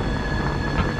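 Steady rumbling train noise with a faint high squeal running throughout, close and continuous.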